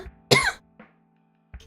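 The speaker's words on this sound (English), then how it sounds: "Gotta love getting cough in the winter." A sharp, loud cough followed by a couple of softer, shorter coughs spaced apart, with quiet in between.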